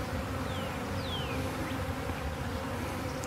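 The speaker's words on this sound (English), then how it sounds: "A lot of bees out in front" Steady buzzing of many honeybees flying at a hive entrance close by, a dense continuous drone with a few individual bees zipping past.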